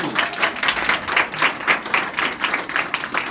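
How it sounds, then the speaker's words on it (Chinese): Applause from a small audience at an indoor product demonstration: a few seconds of brisk, rhythmic hand clapping, close and fairly loud. "掌声响起。"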